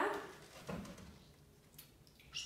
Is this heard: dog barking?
yes